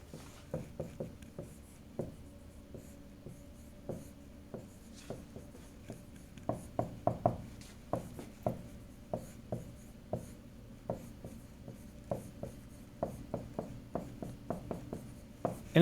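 Writing on a board during a physics lecture on AC circuits: a quick run of tapping, scratching strokes in irregular bursts, close and clear, with no talking over it.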